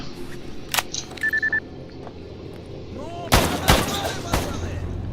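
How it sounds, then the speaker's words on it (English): SKS rifle fire in the game S.T.A.L.K.E.R. G.A.M.M.A.: a sharp single shot early, then a louder cluster of three or four cracks near the end, with faint beeps and movement between. "That sounded like an SKS or something."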